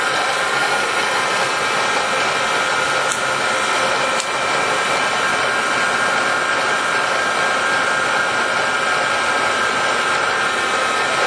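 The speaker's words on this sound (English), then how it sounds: "This machine is driven by a 4 horsepower main drive motor" A Bridgeport Series II heavy duty vertical mill with a 4 horsepower main drive motor runs continuously, giving a loud, steady mechanical whir with a faint high whine, without talk.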